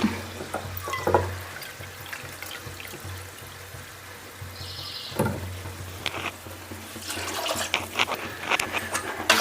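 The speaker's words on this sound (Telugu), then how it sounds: "ఇప్పుడు తగినన్ని నీళ్ళు అయితే పోసుకుందాం" Water is poured into a dried fish curry in a village kitchen, a soft splashing and bubbling that comes and goes over steady background noise, with a few clattering touches from the pot.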